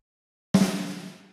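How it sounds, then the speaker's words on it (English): A single programmed snare drum hit from drum software lands after a short silence, striking sharply and ringing out with a decaying tail. No other sounds are present. "It's kind of like the perfect snare here, rings out just enough."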